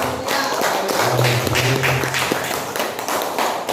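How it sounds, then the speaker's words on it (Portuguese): Standing congregation at a worship service clapping for Jesus, a mix of rhythmic claps and taps close by with a low hum underneath, moderately loud and steady. "Na salva de palmas para o Senhor Jesus"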